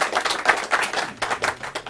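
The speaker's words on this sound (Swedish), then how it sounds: "Vi får en varm applåd." Applause from the audience at a live business event, heard as a sparse, uneven patter of a few hands clapping close by, short and fairly loud, with no talking over it.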